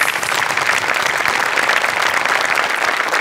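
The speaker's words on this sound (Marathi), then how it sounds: "तर त्यांच्यासाठी आपण टाळ्या वाजवूया." A studio audience at a comedy show claps for ambulance drivers, a loud, even burst of many hands clapping throughout with no talk.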